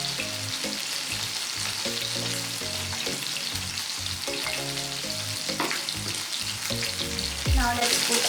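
Salmon sizzles and crackles steadily in hot olive oil in a pan, a continuous frying hiss heard alongside background music, with a louder burst of sizzle near the end.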